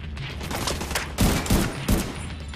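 Gunfire from a weapon in The Division 2 video game, a dense burst of overlapping shots with three sharper, louder cracks near the end, set against a steady busy background of game noise.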